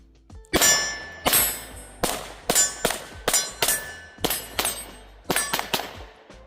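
An HK CC9 pistol fires around a dozen sharp, loud shots in a fairly even rapid rhythm, each crack ringing off with a metallic clang as it decays, close and alone with no talk.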